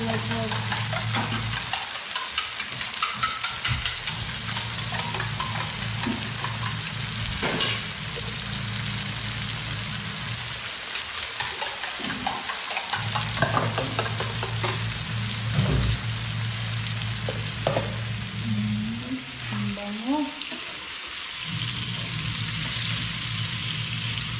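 Egg frying in a pan and being stirred, a continuous loud sizzle broken by scraping and clacking stirs at irregular intervals, with faint voices now and then.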